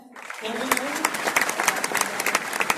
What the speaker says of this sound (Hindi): एक बार तालियां हो जाएंगे